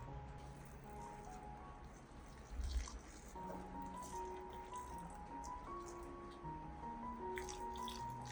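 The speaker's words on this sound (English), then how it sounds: "I watered the roots of the plants." Banana fertilizer water trickles and drips faintly onto plant roots in pots, a soft continuous splashing under quiet background music.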